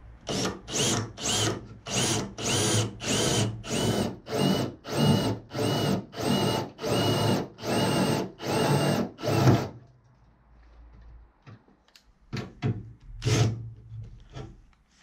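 A flat spade drill bit bores through the first layer of car body sheet metal on a Twingo 1 rear wing, a loud, even run of rapid grinding bursts for about ten seconds, then scattered clinks and scrapes.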